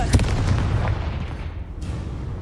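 Confringo fire spell in Hogwarts Legacy, heard as a deep boom with a rumbling burst near the start that fades into a low, muffled roar.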